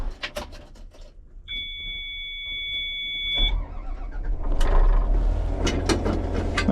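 A vehicle's park brake hand control is adjusted: scattered mechanical clicks and ratcheting, a steady two-tone electronic chime in the middle, then a broad rumble of engine and road noise building up near and loud.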